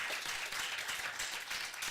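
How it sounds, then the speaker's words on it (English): Faint, distant applause from an audience at a Turlock city council meeting, a steady patter of clapping without talk. "Give me a round of applause for all their efforts."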